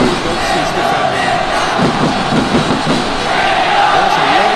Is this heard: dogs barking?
no